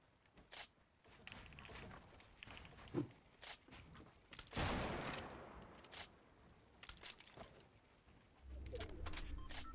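Sniper rifle fire in the video game Fortnite comes as a series of sharp, quiet cracks spaced irregularly, with a longer noisy burst midway, over faint game ambience.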